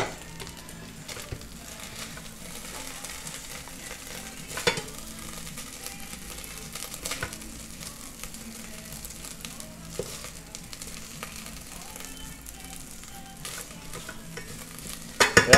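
French onion rice sizzles steadily in a pan while a utensil stirs and scrapes it, a continuous close frying hiss with occasional louder knocks and a cluster of clinks at the very end.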